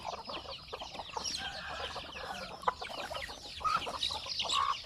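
Chickens on a semi-free-range farm cluck and chatter continuously at close range, several birds overlapping with occasional louder squawks and no one speaking.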